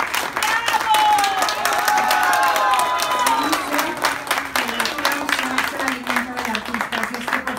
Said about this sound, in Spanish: queremos un fuerte aplauso de corazón para los hermanos Polanco.